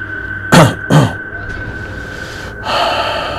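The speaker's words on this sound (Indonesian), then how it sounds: "laki-laki ini, dia batuk berdeham" Two sharp, breathy bursts like a man clearing his throat, followed by a steady breathy exhale over a faint constant hum.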